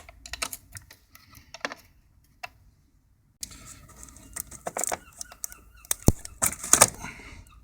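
A 10mm spanner works on a car battery terminal to disconnect it, giving a scattered series of light metallic clicks and ticks, with a silent pause before a busier, louder cluster of taps.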